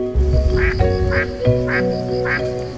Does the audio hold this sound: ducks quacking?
yes